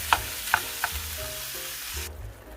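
Ground meat and onions browning in a pan make a close sizzle, broken near the start by a few sharp taps as the meat is chopped up.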